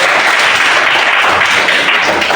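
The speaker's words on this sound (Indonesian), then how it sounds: "Oke, berikan aplaus." Loud, dense applause from a university lecture audience fills the whole stretch, a steady wash of many hands clapping together with no pauses.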